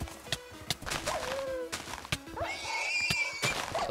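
A horse in Minecraft lets out a rising, drawn-out whinny amid sharp game hits and combat clatter during Lucky Block Survival Games play.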